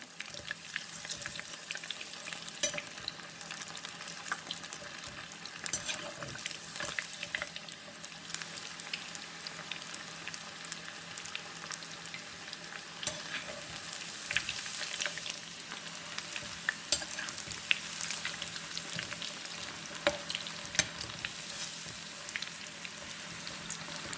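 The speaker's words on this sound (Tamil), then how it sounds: "இந்த மாதிரி நல்லா சிகப்பாக வறுத்து எடுத்துக்குங்க" Chilli chicken deep-frying in oil until red, a continuous fizzing sizzle with scattered pops and crackles, steady and fairly faint throughout.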